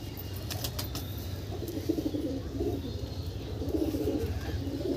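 Pigeons in a loft give soft, low continuous cooing against a steady background hum, with a few faint rustles or wing sounds, no one speaking.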